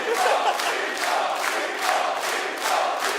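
Live audience at a StarCraft 2 WCS Premier League quarterfinal, a steady roar of crowd cheering with rhythmic swells, like chanting, heard alone and fairly loud.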